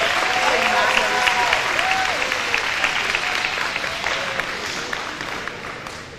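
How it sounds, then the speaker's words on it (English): An audience at an 8th grade promotion ceremony applauds the students, dense sustained clapping that fills the room and slowly tapers off. "Please join me in applauding these 8th grade students and all of our Lighthouse Scholars"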